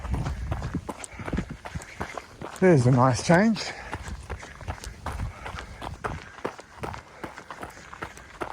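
Quick, rhythmic running footsteps thud along a goat trail at night, loud and close, with a short burst of voice partway through and brief speech over the steps.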